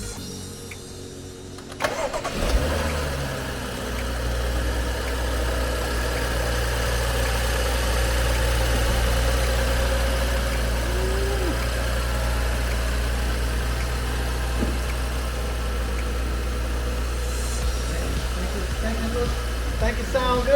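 A BMW N55 engine cranks and fires up after cooling system work, then settles into a steady, even idle with a low rumble that continues close by for a long stretch.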